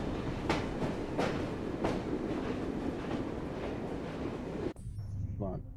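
Steady train rumble with rhythmic clickety-clack wheel beats during a ride in Assassin's Creed Syndicate, continuous and fairly loud, ending in a sudden cut to quieter background near the end.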